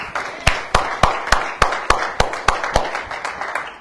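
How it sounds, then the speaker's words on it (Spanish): A church congregation claps in unison for the King of Glory, about a dozen sharp, evenly spaced claps in a steady rhythm, loud and close. "Fuerte el aplauso al Rey de Gloria"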